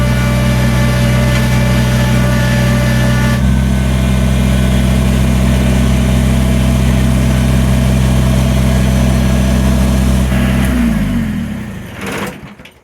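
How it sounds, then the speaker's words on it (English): A tractor engine idles steadily with a deep, even rumble, then shuts off near the end, sputtering briefly into silence. "So using the tractor is a good idea."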